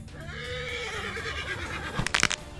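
A horse gives one loud, close, drawn-out neigh that wavers and trails off. A few sharp knocks or hoof clatters follow near the end.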